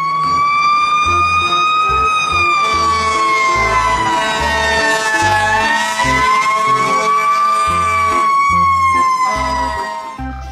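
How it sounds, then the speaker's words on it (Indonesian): Toy fire truck siren wailing loudly and continuously, its rising and falling electronic tone layered over a looping beat of toy music for about ten seconds. "yang ini truk pemadam kebakaran"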